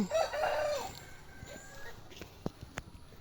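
Chickens on a small farm give a loud crow-like call near the start, then scattered short clucks and sharp knocks over low background noise.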